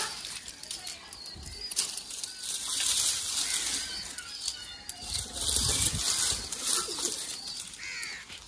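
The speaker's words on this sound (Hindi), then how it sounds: "मैं चल के अपने जो हमारे कबूतर थोड़े से बचे हुए हैं" Pigeons in their loft coo and flap their wings in a busy, close, continuous flutter, with the soft rustling of the birds filling the space.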